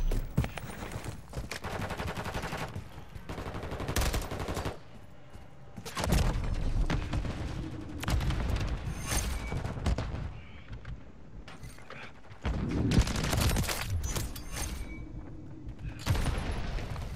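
Rapid gunfire from Call of Duty: Modern Warfare 3 multiplayer rattles in dense automatic bursts with short gaps, loud and continuous across the scene.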